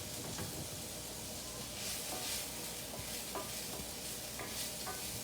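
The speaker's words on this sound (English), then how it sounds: "So this way I can scrape up the bits without damaging my pan." Utensil scraping browned bits from the bottom of a hot pan while onions and garlic sizzle for a beef, barley and mushroom stew, a steady close scrape and fry with no talking.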